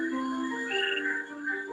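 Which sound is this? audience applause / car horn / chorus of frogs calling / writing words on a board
chorus of frogs calling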